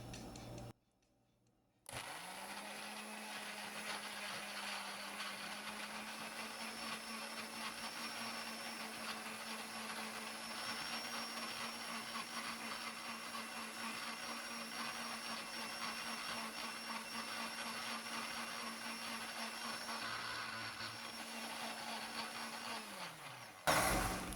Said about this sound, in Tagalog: So, i-blend muna natin guys